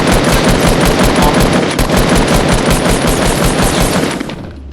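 Rapid automatic gunfire from a shield gun in the Fortnite video game, loud and continuous with dense repeated shots, fading out at the very end.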